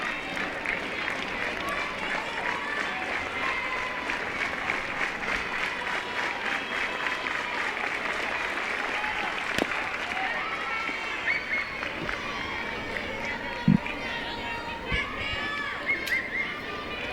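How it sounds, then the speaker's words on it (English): A modest crowd at Tiger Park claps and makes noise for a strikeout at a women's college softball game between Arkansas and LSU, heard faintly under commentators talking. "you hear more than just friends and family clapping for that third strike and the strikeout as the crowd makes a little noise at Tiger Park"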